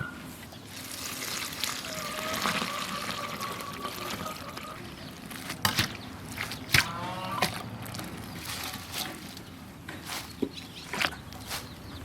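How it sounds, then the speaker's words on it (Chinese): Black locust flowers being rinsed by hand in a basin of water, a continuous close sloshing and trickling with occasional splashes and clinks, and faint birdsong outdoors in the background. "现在把洋槐花我就洗一下。"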